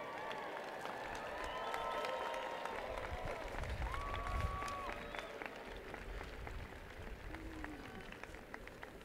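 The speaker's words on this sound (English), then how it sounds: "I want the graduates to stand and applaud all the loved ones who are in this stadium today" Graduates at a Virginia Tech commencement in a stadium applaud their loved ones, a broad, distant crowd clapping that swells and then gradually fades, with scattered cheers and voices in the crowd.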